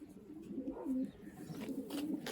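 Soft, low pigeon cooing from a blue-pied hen in a loft, a few gentle murmuring coos repeated close by with faint background noise.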